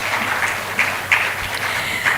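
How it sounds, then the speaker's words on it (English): Audience applause rises in a studio setting, a dense wash of clapping with a few louder bursts, moderately loud and continuous. "Let's give him a round of applause, please."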